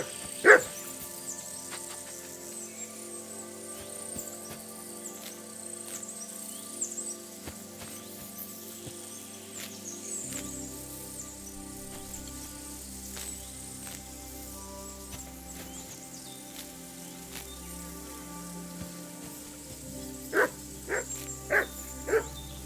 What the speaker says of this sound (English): My dog is barking incessantly, just non-stop.